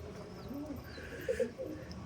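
Pet pigeons cooing softly in a home loft, a couple of low throaty coos close by over quiet background, brief and fairly faint.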